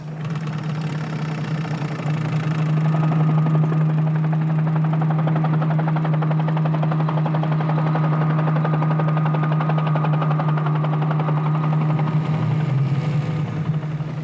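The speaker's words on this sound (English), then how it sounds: "will guide the helicopter in its aerial reconnaissance." A helicopter flies overhead on an aerial reconnaissance run, its engine and rotors making a loud, steady, droning hum that holds evenly throughout, with no voices.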